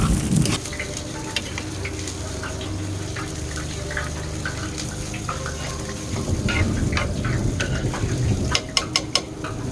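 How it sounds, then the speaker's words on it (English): Smoked queso dip is stirred in a pan, scraping and sloshing steadily up close over a low simmering sizzle, with a few sharp clinks of the utensil near the end. "We're going to give this queso a nice stir."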